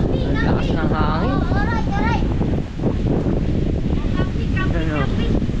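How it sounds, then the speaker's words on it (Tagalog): Strong wind buffets the microphone with a constant roar while people talk over it. "Ang lakas ng hangin."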